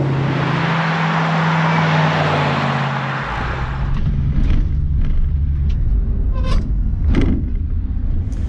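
A 1966 Chevy Nova SS clone with a small-block 350 V8 rumbles steadily, with a deep idle giving way to louder, rougher engine and road noise and a few clicks and thumps near the end.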